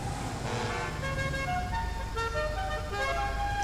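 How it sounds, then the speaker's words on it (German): A car in the video game GTA 5 revs and accelerates, its engine tone climbing in a rising whine, moderately loud and steady throughout, with no talk over it. "das ist von Geschwindigkeitsbeschleunigung gar nicht so schlecht, das Auto"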